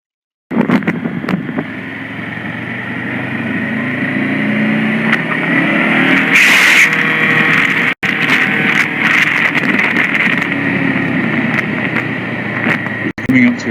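Played back from a driving clip, a car engine rises steadily as another car comes on the wrong side of a traffic island, a continuous moderately loud whoosh with a few sharp clicks and brief dropouts.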